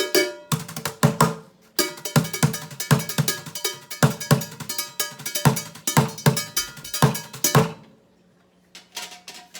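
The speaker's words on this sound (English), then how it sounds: "I like the way the brushes sound on the little crash thing that I made" Drum brushes strike a small homemade crash cymbal on a makeshift kit built from household items, giving bright, metallic, clanky hits in a quick steady groove before stopping, then a few more strokes.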